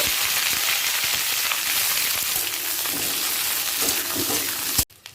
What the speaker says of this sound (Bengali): আমি আরও একটু ফুলকপি দিয়ে দিচ্ছি দিয়ে হালকা লাল করে ভেজে নেব